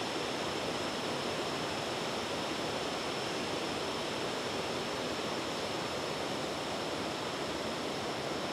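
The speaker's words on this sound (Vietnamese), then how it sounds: "đấy thác đấy thác Giang Điền" Giang Điền waterfall pours with a constant, even rush of falling water, a broad unbroken hiss with no voices.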